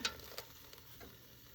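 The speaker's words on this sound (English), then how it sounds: "You can hear the sizzling juices" Quiet, steady sizzling of a kimchi scotch egg frying in hot oil, with a couple of soft clicks.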